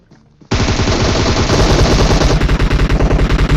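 Video game gunfire from a multiplayer shooter: after a quiet start comes a loud, sudden burst of rapid automatic fire, continuing as a dense rattling stream of shots, close and dominant, with no talking.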